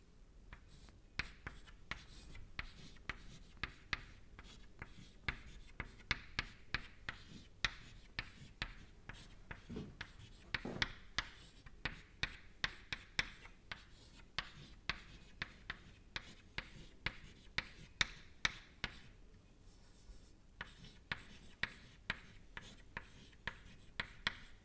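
Chalk or marker taps and strokes across a board during a fluid mechanics lecture, a long run of sharp, irregular clicks and scratches at close range with no voices.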